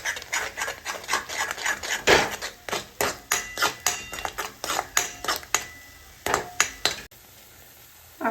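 A utensil scrapes a pan while green ground masala paste roasts in oil for a pea usal, with rhythmic, close strokes repeating steadily before a brief pause.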